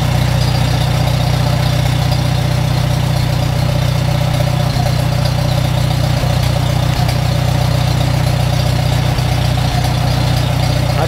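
A Farmall Super M tractor engine idles loudly and steadily at close range, a deep, even rumble that keeps up without a break.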